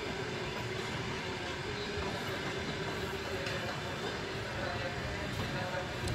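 An old Ammendorf carriage on a long-distance fast passenger train between Kyiv, Rivne and Mykolaiv gives off a steady, dense rolling rumble with faint rail clatter, running without a break. Voices sound in the background.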